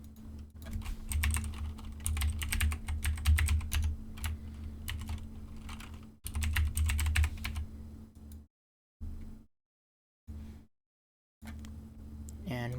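Rapid clattering keystrokes on a computer keyboard while logging in, close and continuous for several seconds, then a few brief bursts separated by silence.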